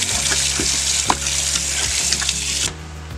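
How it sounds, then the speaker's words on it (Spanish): A pot of water comes to a rolling boil on the stove for cooking chicken breast, giving a dense, steady bubbling hiss with small pops that drops off abruptly near the end. "Aquí ya el agua ya está hirviendo."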